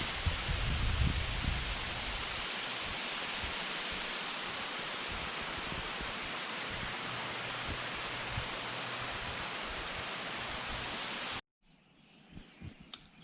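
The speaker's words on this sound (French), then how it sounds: "au final avec les deux chutes d'eau ici" Two waterfalls on Réunion island roar as a dense, steady wash of falling water, loud and unbroken for about eleven seconds before cutting out abruptly to a quieter background.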